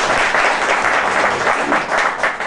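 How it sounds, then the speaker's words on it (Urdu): An audience at an Awami National Party Japan chapter event applauds the chief guest's arrival, loud and dense steady clapping that fills the room without a break. "ان کی آمد پر ان کے اعزاز میں بھرپور تالیاں ہیں"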